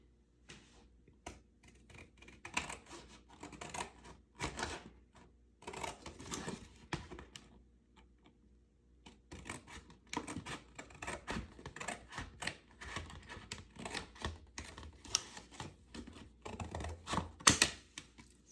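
Scissors snip out paper craft pieces for a wine bag gift, a steady run of crisp, close cuts in irregular bursts with brief pauses between, no talking.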